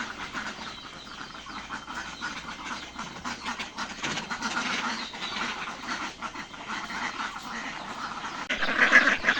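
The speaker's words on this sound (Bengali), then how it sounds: "আমার হাঁস 9টা মাত্র, একটা হাঁসা এবং হচ্ছে 8টা হাঁসি আছে" A small farmyard flock of ducks, one drake and eight hens, quacks in a busy, continuous chatter close to the listener, growing a little louder toward the end.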